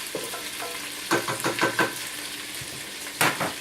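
Curry noodles with pre-cooked shrimp sizzle in a hot pan under a constant hiss, and a few quick bursts of stirring and scraping rise sharply close by.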